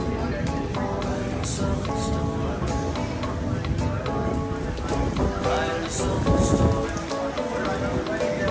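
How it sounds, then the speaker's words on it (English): A heavy evening thunderstorm near Richards Bay on the South African coast: dense, steady rain pours down with a low rumble of thunder beneath, loud and continuous throughout. "And in the evening, huge thunderstorms develop."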